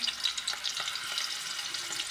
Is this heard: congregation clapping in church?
no